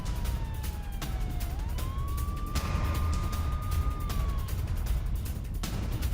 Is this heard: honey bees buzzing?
no